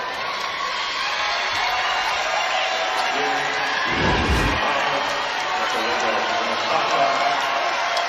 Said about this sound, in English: the Texas fans on their feet with applause